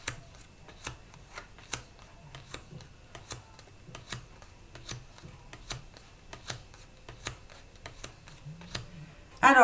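A deck of playing cards is cut and shuffled at close range, giving faint, regular light ticks and snaps over a quiet room, with a louder rustle at the very end.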